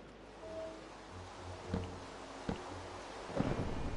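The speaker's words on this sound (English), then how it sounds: "Ah, bit of thunder. I don't like thunder." Thunder in the Minecraft video game: a few soft low rumbles and cracks rolling through a quiet background of wind and rain, distant and faint rather than sharp.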